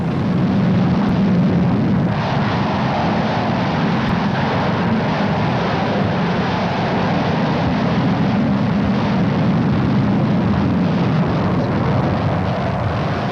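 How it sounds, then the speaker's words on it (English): A heavy military aircraft heading north to Iraq during the Desert Storm air campaign, heard as a steady, loud, broadband engine roar that holds without a break from start to finish. "let's watch and listen for a moment as we watch the pool pictures of this mighty aircraft going north to Iraq"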